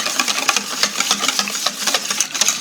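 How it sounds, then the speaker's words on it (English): Rapid, steady whisking of lumpy pumpkin into pumpkin spice waffle batter in a bowl, a continuous close scratchy rattle of wire against the mix with no talking. "That pumpkin was a little lumpy today, so we'll whisk it in."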